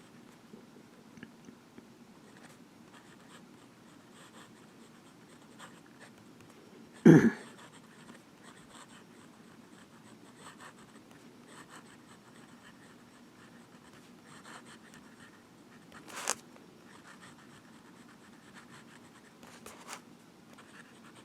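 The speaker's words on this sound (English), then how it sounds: "Reverse writing." A Visconti Mirage fountain pen writes in reverse on paper with faint, scratchy nib strokes. The scratching is broken by a sharp thump early on and another knock later.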